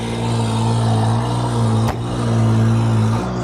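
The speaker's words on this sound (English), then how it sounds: "we got a little equipment coming by us right now" Heavy equipment drives past with a loud, steady diesel engine droning close by, a deep constant hum briefly interrupted by a sharp knock.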